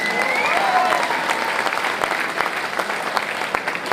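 An audience at a Gujarati folk music show claps in sustained applause, a dense, loud patter of many hands that gradually thins slightly, with a few whistles cutting through.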